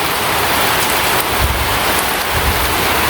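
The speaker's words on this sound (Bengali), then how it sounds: "প্রচণ্ড বৃষ্টি শুরু" Heavy rain pours down in a continuous, loud, dense roar with no pauses and no voices.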